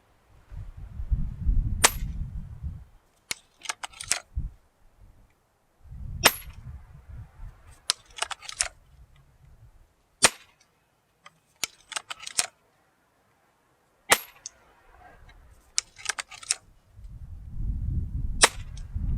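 Several sharp, quiet snaps of .22-calibre Gamo Swarm Fusion 10X Gen 2 air rifle shots ring out at irregular intervals, separated by low rustling and handling noises.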